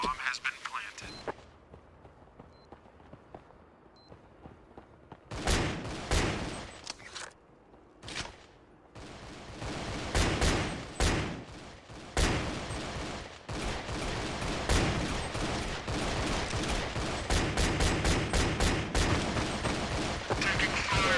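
Gunfire in Counter-Strike on Xbox comes in loud bursts and rapid volleys that grow denser toward the end, with a radio voice calling out during the action.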